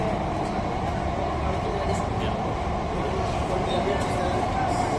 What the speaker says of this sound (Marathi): अंडरग्राऊंड मेट्रो जबरदस्त खतरनाक सुपट आहे